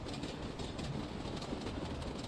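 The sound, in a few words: model train running on a model railway layout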